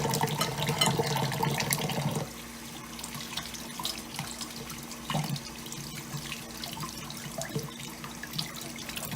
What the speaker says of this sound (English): We're also going to rinse the pan.